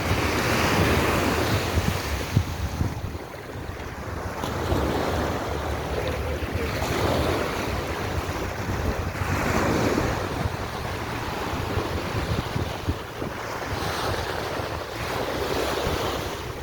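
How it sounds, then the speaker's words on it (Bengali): Sea waves break steadily on a beach in Thailand, a loud continuous roar of surf with rhythmic swells, mixed with gusty wind buffeting the microphone. Nobody speaks. "এই দেখো বাস, এটাই খুব বিশাল বড় যেন জোর ঢেউ।"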